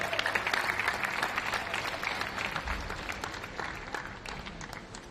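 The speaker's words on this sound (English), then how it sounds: "Ladies and gentlemen, one big final round of applause for Mini" Applause from a crowd for kart racing drivers at an academy final, a dense steady wash of clapping that tapers off toward the end, with no voice over it.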